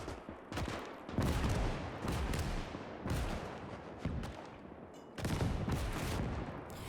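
Heavy battle din from the video game Gates of Hell, with a dense, continuous roar of rifle, machine gun and artillery fire that swells in waves and never lets up.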